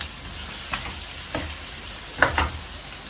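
Chicken browned in a karahi sizzles steadily in hot oil with freshly added ginger-garlic paste, broken by a few scraping stirs of a spoon against the pan, the last two close together near the end.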